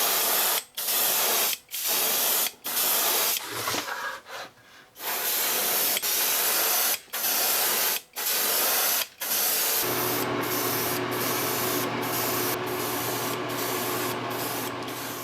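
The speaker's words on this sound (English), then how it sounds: "I'm gonna spray a little bit of kind of a gray blue paint" Short bursts of an aerosol spray can hiss as gray blue paint is misted inside a transparent fishing lure, several separate blasts with brief gaps, then a longer continuous spray with a faint motor hum underneath.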